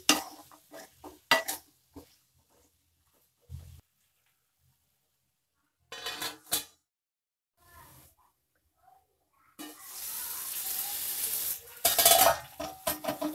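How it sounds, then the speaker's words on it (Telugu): Ivy gourd pieces fry in hot oil, a loud, steady hiss that rises in the latter part after scattered utensil clinks and stirring bumps in an otherwise quiet kitchen. "దొండకాయ ముక్కలు ఈ విధంగా మనం వేయించుకోవాలి"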